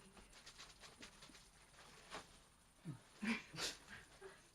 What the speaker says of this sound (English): My dog, I guess.